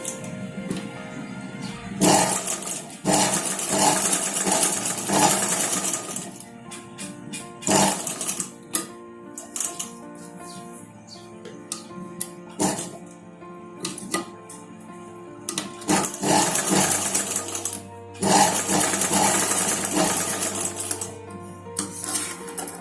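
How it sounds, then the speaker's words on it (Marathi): A sewing machine stitches the tucks of a four-tuck blouse in a series of rapid mechanical runs of varying length, separated by short pauses and clicks, close and loud. "एक रेषच फक्त स्टिच करायचं"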